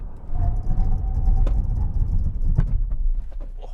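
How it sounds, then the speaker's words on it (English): A 2021 Opel Insignia Grand Sport saloon with four disc brakes makes an emergency stop from 100 km/h, heard as a loud steady rumble of road and engine noise heard from inside, with a few bumps and clicks. "let me do a 0 to 100 emergency braking stop"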